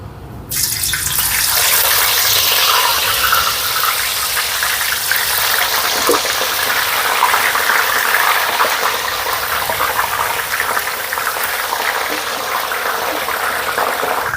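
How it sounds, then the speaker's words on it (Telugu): Sliced potato chips hit hot oil in a pan over a high flame, and a loud, steady, broadband sizzle bursts up and keeps going, close by. "ఈ ప్రాసెస్ కంప్లీట్ అయ్యేంత వరకు కూడా హై ఫ్లేమ్ మీదే మనం చిప్స్ని ఫ్రై చేసుకోవాలి"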